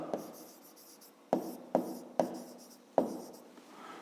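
A pen scratches across paper in close, quiet strokes, with about five sharp onsets, each followed by a short rubbing scrawl, as someone writes down a maths problem.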